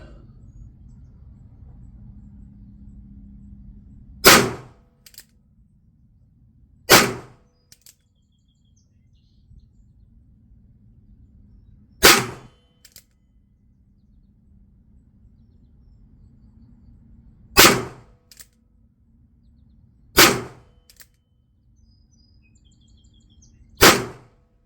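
A Pietta .357 Magnum Peacemaker revolver fires six loud, sharp shots with irregular pauses of several seconds between them, each cracking out over faint outdoor quiet.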